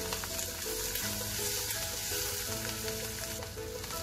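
Boiled, peeled potato pieces fry in a spiced tempering with turmeric for a dry potato dish, giving a steady, close, loud sizzle with faint stirring and no voices.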